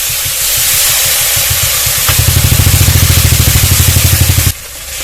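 Stone-ground spice paste and its rinse water hit hot oil that holds whole garam masala, a loud, dense sizzling hiss with a rhythmic low throbbing that cuts off abruptly near the end.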